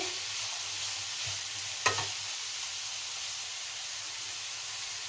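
Vegetables and curry leaves fry in a pan for vegetable fried rice, giving a steady, even sizzle and hiss with one brief clink midway.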